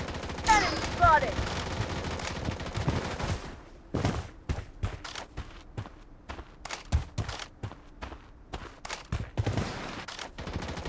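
Gunfire in the shooter game Blood Strike: a voice is heard briefly at the start, then bursts of rapid shots and single cracks repeat at irregular intervals, mixed with footsteps and fairly loud.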